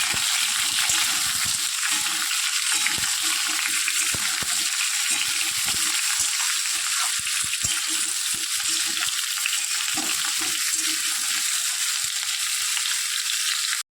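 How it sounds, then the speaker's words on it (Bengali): Pumpkin pieces fry in hot oil in a pan, giving a steady, close hiss of sizzling that runs unbroken throughout, with faint clinks and stirring scrapes scattered beneath. "কুমড়োগুলো দিয়ে দিলাম, ভালো করে ভেজে নিই"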